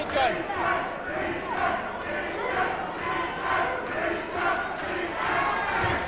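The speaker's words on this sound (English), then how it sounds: "Crowd going ballistic over there in the corner" A boxing crowd roars loudly from a corner of the arena, cheering on the hometown fighter in a sustained, swelling wall of shouts and yells.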